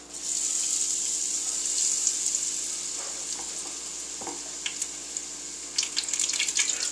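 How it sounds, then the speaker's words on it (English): Food deep-frying in hot oil, a steady close bubbling hiss with occasional pops and crackles, no voices. "Hopefully we can see these things frying."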